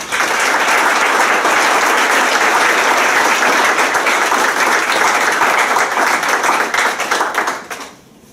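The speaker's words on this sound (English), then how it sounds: "Give him a nice round of applause." A city council meeting audience gives a loud round of sustained, close applause. It keeps up steadily, then tapers off and stops abruptly near the end.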